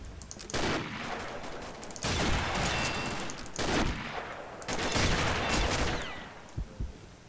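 Gunfire in the Combat Arms shooter game comes in several loud bursts of rapid automatic fire, separated by brief gaps, ending with a few scattered single shots.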